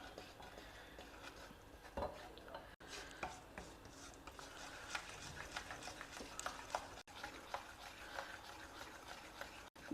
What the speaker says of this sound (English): Add in this besan or gram flour and fry it very well